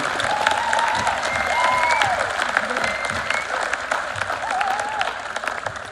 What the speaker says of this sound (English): Let's give another round of applause to the concert band.